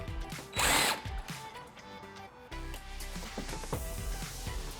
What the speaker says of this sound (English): You're going to want to take your drill and have it going straight up.